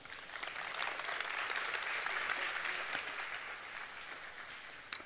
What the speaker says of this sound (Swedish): Ge vår föreläsare en varm välkomnande applåd.